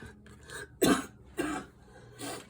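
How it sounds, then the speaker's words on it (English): Three separate coughs, the first loud and deep, the next two weaker, with short quiet gaps between them, close to the listener. "you guys would have heard the depth of that cough."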